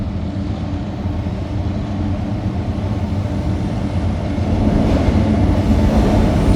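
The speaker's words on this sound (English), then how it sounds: "we got a train coming up here" A continuous low rumble of a train rolling past at night in Sainte-Anne-de-Bellevue, Montreal, steady and fairly loud, growing slightly louder toward the end with no voices.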